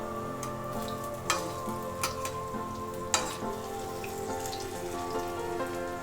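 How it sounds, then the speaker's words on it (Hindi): Taro (arbi) leaf pakoras fry in a pan, giving a steady close sizzle with a few sharp crackles and pops scattered throughout and no voices. "अब हमारे अरबी के पत्ते फ्राई हो चुके हैं।"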